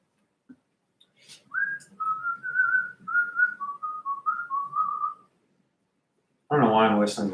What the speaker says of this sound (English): I don't know why I'm whistling the Looney Tunes.